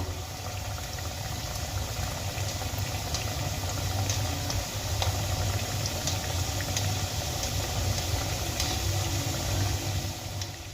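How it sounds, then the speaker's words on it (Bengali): Chhena jalebis fry in a kadai of hot oil with a continuous, close bubbling sizzle, dense and even throughout, with scattered small crackles and no voices. "এবার তেলের মধ্যে আমি জিলাপিগুলো ভেজে নেব"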